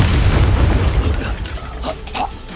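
A Bombarda spell goes off in Hogwarts Legacy, a loud, deep boom that rolls and slowly decays, with a couple of smaller crackling bursts trailing behind it.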